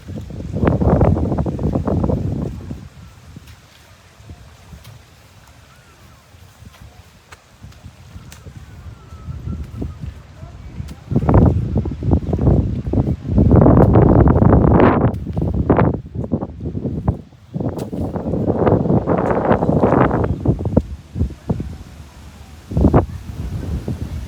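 Wind gusts over open paddy fields near a village swimming pool, blowing loud and buffeting against the microphone in surges that rise and fall, with quieter lulls between gusts.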